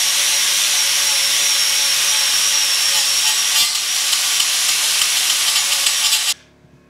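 Angle grinder working steadily on welds of a metal sign frame, flattening the beads; a continuous loud, bright whine that holds for about six seconds, then cuts off abruptly.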